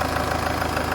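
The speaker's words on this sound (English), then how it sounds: "Engine's running, there's no leaks, nothing obvious at all." A 2013 Range Rover Evoque engine idles steadily and close by, a continuous even rumble with a faint regular pulse throughout, no voices over it.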